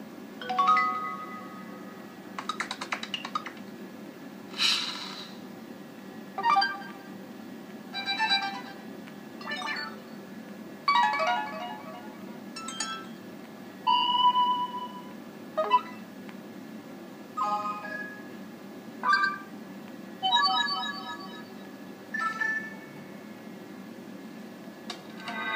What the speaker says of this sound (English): Now let's take a look at the alert tones.